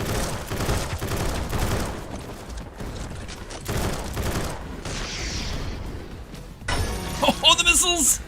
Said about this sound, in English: Oh, the missiles!